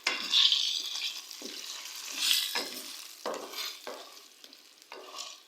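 Chicken karahi stirred in a hot pan, a steady sizzle broken by several scraping strokes of a spoon roughly every second, close and clear with no talking.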